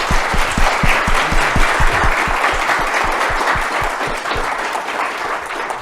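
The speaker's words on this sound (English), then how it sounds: "so I hope you can give him a round of applause" An audience applauds to welcome a keynote speaker at an accessibility day event at the Space Telescope Science Institute, a steady, even wash of clapping over a regular low thumping beat.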